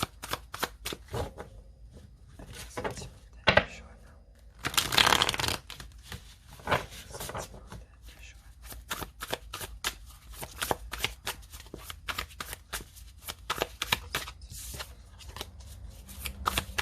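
Tarot cards are shuffled by hand over and over, a fast run of crisp riffling snaps and papery slaps that comes in irregular bursts close to the microphone, with no voice.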